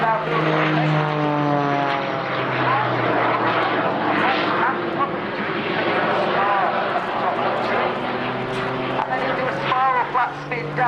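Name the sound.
Jet Pitts aerobatic aircraft flying at air show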